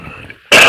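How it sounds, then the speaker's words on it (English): A single sharp, loud cough bursts out abruptly after a quieter stretch of faint background noise. "I had a cough."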